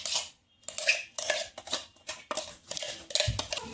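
Mashed boiled potatoes being stirred with salt, garlic-chili chutney and coriander for paratha filling, a run of short clinking and scraping strokes of a spoon against a bowl, close and fairly quiet.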